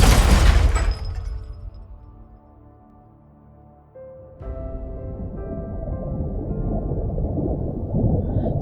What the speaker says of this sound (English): The first thing she hears is roaring, crushing water